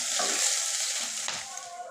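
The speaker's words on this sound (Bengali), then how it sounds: "এবার আমি পেঁয়াজটাকে একটু লাল লাল করে ভেজে নেব।" Chopped onion frying in oil in a pan, a close, bright continuous sizzle with a brief stir, no speech.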